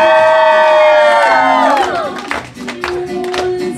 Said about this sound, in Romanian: Aplauze pentru sărbătorit!